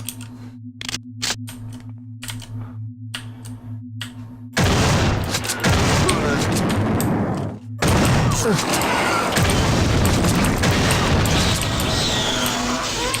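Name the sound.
shotgun firing, from video game System Shock 2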